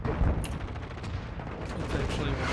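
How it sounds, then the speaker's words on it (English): Dense video-game gunfire and explosive bursts from a hostile mortar strike, a continuous rumbling barrage of thuds and cracks running throughout, loud and close, with voices faintly under it. "Hostile mortar strike in the area."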